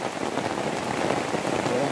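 Rain drums steadily on a camping tent, a dense continuous patter of drops that stays even and moderately loud throughout.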